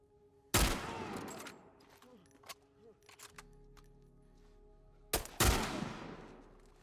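Large rifle fire in The Last of Us Part 1 game, two heavy booming shots a few seconds apart, each with a long echoing tail, with quieter game sounds in between.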